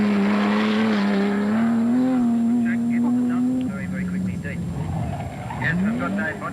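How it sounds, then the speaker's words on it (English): Holden Torana XU-1 race car climbing the Mattara hill climb course in 1972, a loud sustained engine note rising through the gears with a shift partway, tail sliding, under commentary talk. "The improved XU1s of Jim Jenkins and Dave Boddy, while providing some spectacular driving during the titles, were no match for the flying Tirana of Bria"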